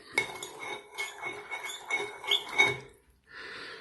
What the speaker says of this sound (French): je vais devoir la touiller pour homogénéiser le liquide vaisselle dans l'eau tiède